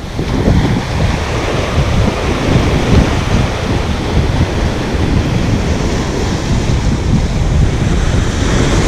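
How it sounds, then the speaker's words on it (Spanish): A strong north wind roars across a beach with crashing surf, a loud, continuous, unbroken rush of wind and waves filling the whole scene without any voices. "Hay mucho viento norte."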